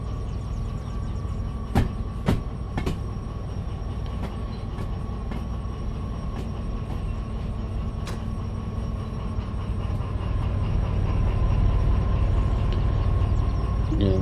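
A train rolls along rails in the Derail Valley train simulator, giving a steady mechanical rumble with a few sharp clanks near the start and a long continuous drone that swells slightly toward the end.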